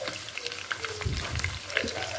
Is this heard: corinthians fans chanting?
no